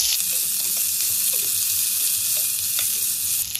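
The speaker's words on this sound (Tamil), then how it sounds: "மீடியம் சைஸ் தக்காளியை கட் பண்ணி இதோட வதக்கிக்கலாம்" Chopped medium-size tomatoes sauté in a pan with softened onions, giving a loud, constant sizzle and crackle with faint scattered pops throughout, close up and with no voices.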